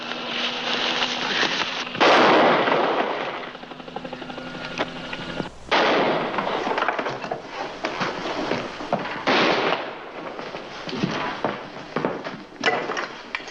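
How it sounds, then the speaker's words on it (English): Several sharp gunshot-like bangs ring out amid a dense, noisy background, with loud bursts spaced irregularly across the stretch, in a television police drama. "Just heard gunshots. 3 of them."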